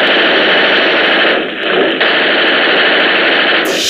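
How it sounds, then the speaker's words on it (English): Opening of the 1930s Gangbusters radio drama: a loud, continuous burst of staticky machine-gun fire and noisy cacophony, briefly dipping in the middle, with no talk. "It's a radio show from the 30s."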